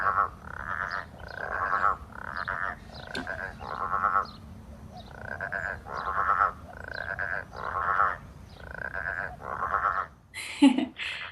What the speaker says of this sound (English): Growling grass frogs,